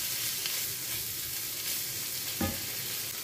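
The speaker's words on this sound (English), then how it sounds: "I'm going to put in my shrimps" Shrimps dropped into a pan of frying onions hiss in a dense, even sizzle that fills the moment, close and steady, with a faint spoon knock partway through.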